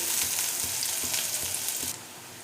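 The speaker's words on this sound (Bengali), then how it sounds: "সেই পেঁয়াজ কুচি আর লঙ্কা কুচিটা দিয়ে দিচ্ছি দিয়ে এটাকে একটু ভাজা ভাজা করে দেবো" Chopped onion and green chillies fry with nigella seeds in a pan for a pointed gourd curry, giving a dense close sizzle with soft rhythmic stirring thumps before it quietens near the end.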